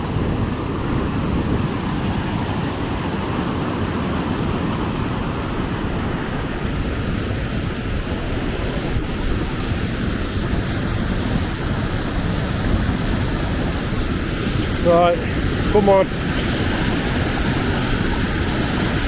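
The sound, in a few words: Rutor waterfall roaring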